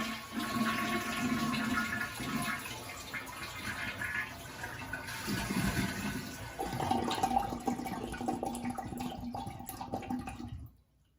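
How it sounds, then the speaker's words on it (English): A toilet flushes with its lever held down so the tank keeps draining, giving a sustained, close rushing and gurgling of water for about ten seconds that cuts off abruptly at the end. "we're going to flush the toilet valve, and we're going to hold the lever down so that all the water drains out of the tank"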